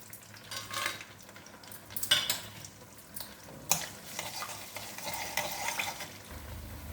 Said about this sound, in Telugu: ఇప్పుడైతే నూనె వీటెక్కిందండి. పోపు దినుసులు వేసుకుంటున్నాను.